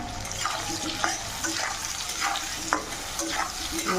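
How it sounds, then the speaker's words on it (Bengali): Potatoes and onions frying and browning in a pan for chicken kosha, with a steady sizzle under repeated spatula stirs and scrapes. "আলুটা পেঁয়াজটা ভালো করে লাল করে নেবেন"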